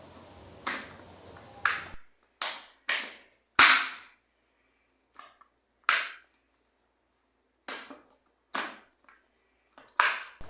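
Latches on an Invicta ProDiver 8928 OB's military-grade watch box snap open and shut: a sequence of about a dozen sharp, close clicks and clacks, spaced irregularly with short silences between, heard alone.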